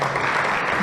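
Church congregation applauding the Lord during a Spanish-language service, a steady, dense wash of clapping that fills the whole moment without a break.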